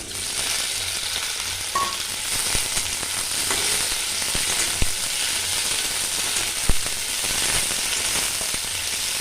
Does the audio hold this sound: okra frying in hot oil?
yes